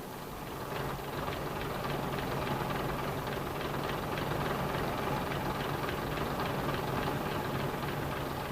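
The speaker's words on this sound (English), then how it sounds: "The throttle must be held open until the engine will run at idling speed" A train engine running at idling speed just after starting, a steady, even mechanical hum with a faint knocking texture that holds without change throughout.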